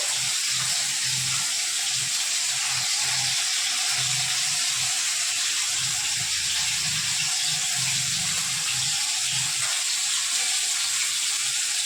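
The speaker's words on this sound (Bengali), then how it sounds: "এখানে আমি চিকেন দিয়ে তুলে ভাজা বসিয়েছি" Chicken frying in a pan in a home kitchen, a steady hiss and crackle of oil running continuously, moderately close, with faint low rumbles beneath.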